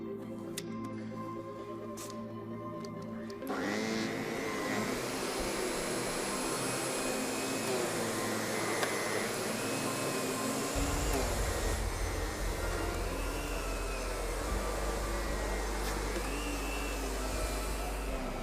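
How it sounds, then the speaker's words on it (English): An SEB 236 canister vacuum cleaner switching on with a sudden steady whine and roar, running loud and continuous with a deepening low hum partway through, while someone speaks over it. "The SEB 236 has an elegant LED headlight that will assure nothing will escape."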